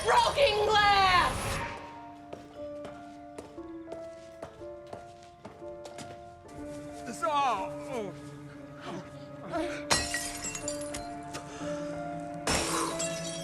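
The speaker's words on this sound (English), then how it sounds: "There's more broken glass!" Glass shattering with a bright crash at the start and sharp breaking hits later, set against tonal drama-series music and a few footstep-like taps, heard during a TV episode.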